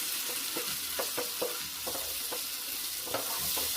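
Onions and a spice paste frying and being stirred in a pan, with a steady close sizzle broken by repeated scraping strokes of the spoon against the pan.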